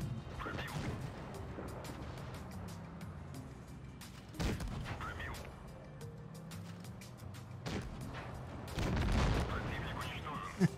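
Tank cannon shots and heavy impacts thud against a Chieftain in World of Tanks Blitz, a few loud booming hits spaced seconds apart over rumbling engine noise and scattered clanks.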